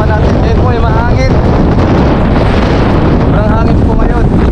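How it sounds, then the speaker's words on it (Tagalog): Strong wind blows by choppy water and buffets the microphone with a loud, constant roar that never lets up, and a voice talks faintly under the noise. "Sobrang hangin po ngayon."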